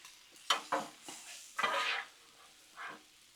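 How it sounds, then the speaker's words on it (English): Seasoned dirty cabbage stirred on a Blackstone griddle: a spatula scrapes and clatters against the flat steel top in short bursts over a faint sizzle. "We're going to mix everything up."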